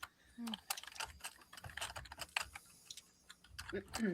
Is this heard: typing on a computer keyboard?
yes